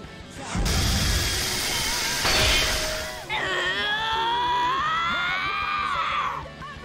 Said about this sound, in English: My chainsaw shrieks like a banshee, but it shreds through his steel just fine